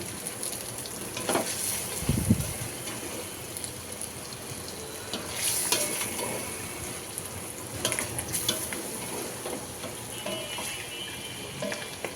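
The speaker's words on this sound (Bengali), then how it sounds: "আমি আবার নাড়াচাড়া করে ভেজে নিচ্ছি" Beef tripe sizzles and fries steadily in a pan, with occasional scraping and stirring clatter throughout.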